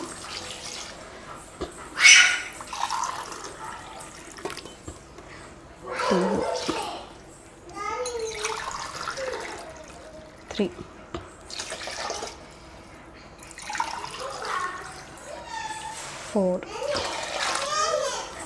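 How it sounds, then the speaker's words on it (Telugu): About two and a half glasses of water run and splash intermittently into a pot of chicken for biryani, with a few louder pours, while a person talks throughout nearby. "ఇప్పుడైతే వాటర్ పోసేసుకుందాం"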